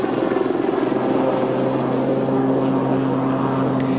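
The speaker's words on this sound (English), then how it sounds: "the Westland Lynx is a twin-engined, all-weather, lightweight helicopter" A twin-engined Westland Lynx lightweight helicopter, armed with Sea Skua missiles, flies at a 1987 Fairford airshow, giving a steady loud rotor and turbine drone with a sustained low hum throughout.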